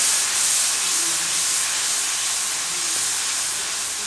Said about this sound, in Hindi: और हल्का सा पानी का छींटा लगाएंगे